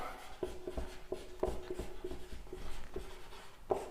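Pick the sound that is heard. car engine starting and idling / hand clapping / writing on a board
writing on a board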